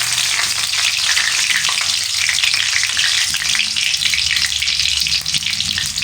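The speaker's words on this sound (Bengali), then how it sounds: "এবারে আমি এর মধ্যে দুটো তেজপাতা দিয়ে দিলাম।" Two bay leaves hit hot oil in a pan for Bengali katla fish kalia, giving a loud, steady frying sizzle that holds without a break for the whole stretch, with no voices.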